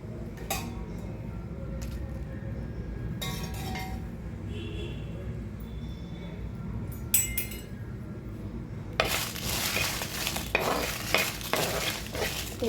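Fifteen to twenty green chillies and dried red chillies fry in oil in a hot kadai. A low steady hiss turns into a louder, brighter sizzle near the end, with occasional scraping and clinking from stirring.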